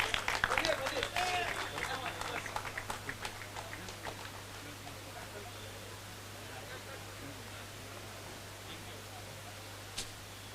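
Applause for a player at a cricket prize ceremony: a crowd claps in a dense, irregular patter that is loudest at the start and thins into a steady wash, with talk over it throughout.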